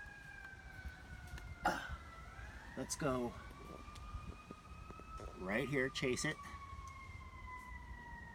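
Emergency vehicle sirens wail outdoors, faint and distant, with slowly sweeping tones and bursts of yelping beneath, while a person talks briefly over them.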